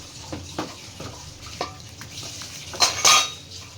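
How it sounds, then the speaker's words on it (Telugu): Tempering being stirred into mango dal in a pot, several scraping and knocking spoon-on-pot strokes with soft sizzle underneath, ending in a louder metallic clatter; no talking. "ఈ పోపు దీంట్లో మిక్స్ చేసుకోవాలి"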